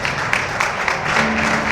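Crowd applause at the end of a senior hockey game between the Flyers and the Knights, a steady wash of clapping in an arena with a few sharper claps throughout.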